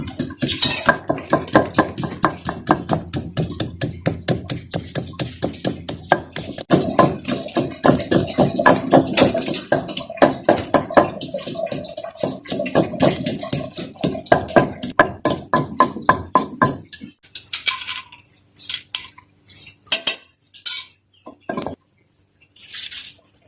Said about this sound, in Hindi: कूंडे में हमने इसे तो हल्का कूटना है